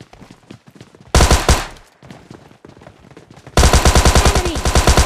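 Gunfire in the mobile battle-royale game PUBG Mobile Lite: a short loud burst of rapid automatic shots, a quieter gap with scattered noises, then a second sustained rattling burst up close.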